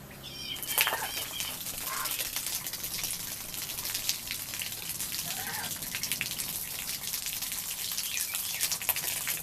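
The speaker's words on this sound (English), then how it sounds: "I'm going to drink from the hose." Water gushes steadily from a plastic garden hose outdoors, a continuous close hiss and splatter with small bubbling shifts, lasting throughout without a break.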